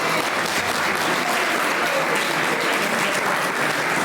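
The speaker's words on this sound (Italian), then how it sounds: "Vi faremo un applauso." At a poetry contest in Sardinia, the audience claps in a thick, even roar of applause that holds at a constant, fairly loud level throughout, without any speech over it.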